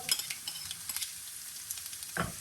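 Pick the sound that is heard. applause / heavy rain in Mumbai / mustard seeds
mustard seeds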